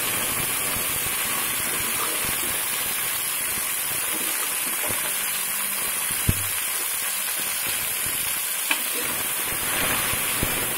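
Amaranth leaves with moong dal fry in a hot pan, giving a steady, loud sizzle throughout with a few sharp clicks and scrapes near the end.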